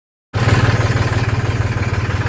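A tractor engine idles loudly and close during a Janmashtami celebration rally, starting suddenly after a brief silence into a steady low, throbbing chug.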